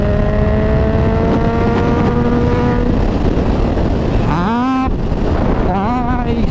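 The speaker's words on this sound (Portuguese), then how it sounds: "Olha a retomada, mano, dessa moto, cara. De sexta marcha, cara." A Suzuki GSX-S1000 motorcycle engine accelerates in sixth gear from about 135, revving loudly with its pitch climbing, then dropping and climbing again in surges, all over heavy rushing wind noise.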